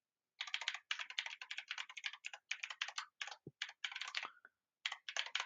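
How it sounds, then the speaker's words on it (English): Rapid bursts of typing on a computer keyboard while an email address is entered, fairly close and clear with short pauses between runs of keystrokes, alone without talk. "type the email address that you want to forward the email to"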